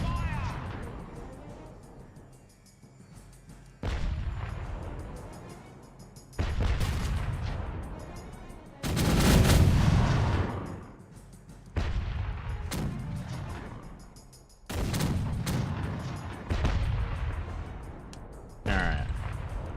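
Cannon broadside from a sailing warship in the pirate game Caribbean Legend: a series of heavy booming blasts at irregular intervals, each with a long rolling decay, one especially loud in the middle, with no talk over them.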